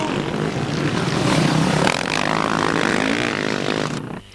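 A Honda TRX 450R quad races past on an outdoor course, its engine a loud, buzzing high-revving drone that rises then falls away, dropping off sharply at the end.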